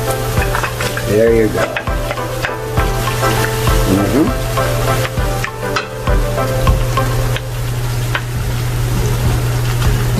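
Spare ribs simmering in fermented black bean sauce in a pan, a steady close sizzle with stirring and scraping throughout, a voice briefly speaking over it.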